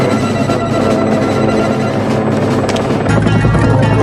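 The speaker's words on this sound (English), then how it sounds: "it was still a sleek scout helicopter built for speed and agility" A Gazelle scout helicopter flies close by, a steady loud rotor and engine roar that continues throughout with no voices.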